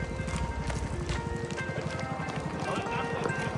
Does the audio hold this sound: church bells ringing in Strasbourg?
no